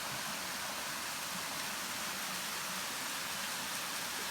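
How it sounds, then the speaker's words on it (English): A waterfall beside a forest trail along Seneca Creek sounds as a faint, distant, unbroken rushing hiss, even and steady from start to finish. "Waterfall."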